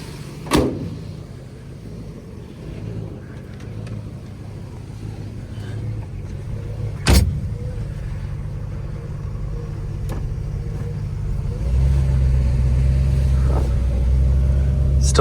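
A Mercedes 240D swapped to a V8 with a 6-speed gearbox drives off with a steady low engine drone inside the cabin. A couple of sharp knocks are heard, and the engine grows louder as it accelerates near the end.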